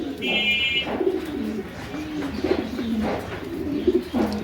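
Homing pigeons cooing up close, a pair of birds giving repeated low rolling coos in several phrases over a few seconds, with a faint chirp early on.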